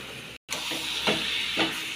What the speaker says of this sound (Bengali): এইবারে মা এতে মাংসটা মিশিয়ে দেবে